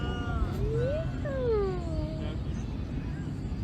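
A cat gives a couple of rising-and-falling meows at close range, with light background noise throughout.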